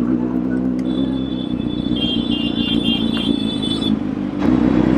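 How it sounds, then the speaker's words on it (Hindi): A loud Benelli 600i motorcycle with a changed exhaust idles close by, a deep throbbing rumble with a steady higher whine over it and a short dip before the engine picks back up. "अभी सुन सकते हो पूरा लाउडनेस पूरी बदल चुकी है बाइक की, बढ़िया हो गई है बिल्कुल।"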